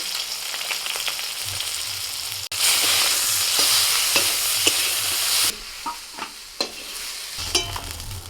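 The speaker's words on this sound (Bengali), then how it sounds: "তেলের মধ্যে বেগুনগুলোকে আগে ভেজে নিচ্ছি একটু লবণ আর একটু হলুদ দিয়ে" Eggplant (brinjal) pieces frying in oil with salt and turmeric, a loud steady sizzle that drops partway through, then quieter frying with a few stirring scrapes and clinks.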